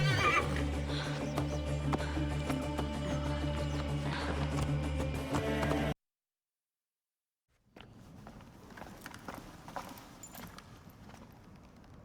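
In Assassin's Creed Origins, set in ancient Egypt, a horse whinnies among hoof clip-clops and dense game sound, then the audio cuts to silence before quieter ambience resumes.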